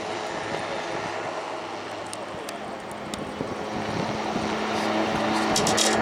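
An autogyro gyrocopter flies at Blackpool Airshow, its steady engine and propeller drone holding loud and continuous throughout against a broad outdoor wash that swells slightly toward the end.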